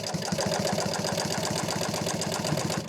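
A sewing machine runs steadily, stitching plain fabric without any welt insert, its fast needle strokes forming an even, continuous mechanical rattle for the whole stretch with no talking.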